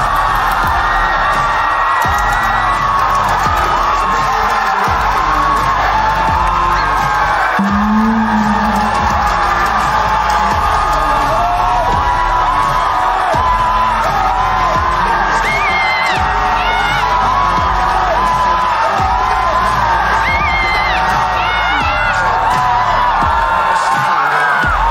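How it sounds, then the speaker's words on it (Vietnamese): A large crowd at a Vietnamese TV show martial-arts music performance cheers and whoops continuously, with sustained clapping and shouting throughout, loud and unbroken for the whole stretch. "Và bây giờ tiếp tay dài thật dài cho đội võ nhạc số 2."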